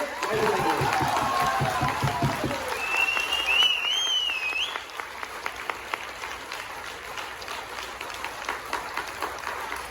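An audience at a leader training session in a hall bursts into loud clapping for a few seconds, then it dies away into a quieter room with faint scattered sounds.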